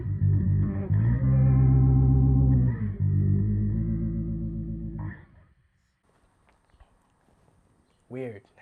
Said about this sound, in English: let's dime everything